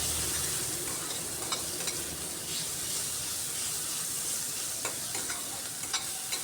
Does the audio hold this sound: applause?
no